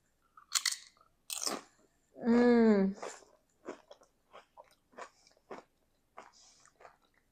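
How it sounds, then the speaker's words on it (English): Crunchy chips being bitten and chewed after dipping into a chipotle pimento cheese dip, giving a run of sharp, close crackling bites with a brief voiced sound between them. "I love the crunch from the chips."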